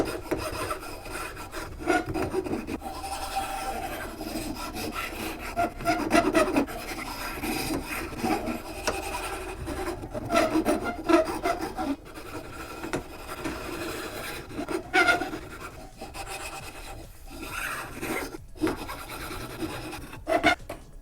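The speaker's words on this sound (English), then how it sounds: "now I can really tighten this down. I can take the finer file" A fine hand file rasps back and forth across a wooden part of a Boba Fett jet pack build, producing close, continuous scraping strokes in an uneven rhythm with no talking.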